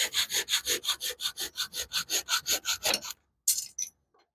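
A hand saw cuts through a wooden board in a home workshop, about sixteen quick, even back-and-forth strokes with a raspy rhythm, then a pause and a couple of final short strokes, close and clear.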